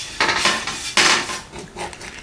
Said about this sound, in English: Put some oil on the surface of the grill pan.